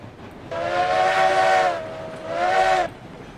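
A steam locomotive in the railroad game RailRoads Online, likely a 2-8-0 Cooke Consolidation, sounds two loud, close whistle blasts, a longer one followed by a shorter one after a brief pause.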